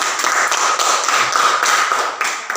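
Elementary schoolchildren clap together in a classroom for a group of classmates, a steady dense patter of many small hands that keeps going evenly from start to finish with no voices.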